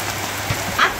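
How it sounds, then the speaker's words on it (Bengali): Steady rain falling outside a village home, a close, even hiss of drops on surfaces that continues throughout with no voices. "বৃষ্টি খালি নামতেই থাকে আবার নেমে যাবে।"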